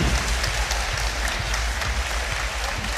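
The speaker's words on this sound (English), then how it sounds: "Resounding applause from the audience here." Loud, steady applause from an audience at a Polaris grappling event, a dense continuous wash of clapping that fills the whole stretch without a break.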